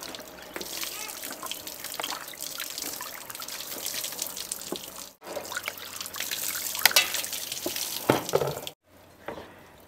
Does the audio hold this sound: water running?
yes